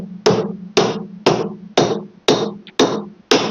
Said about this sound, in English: we're going to take our stair tool and our hammer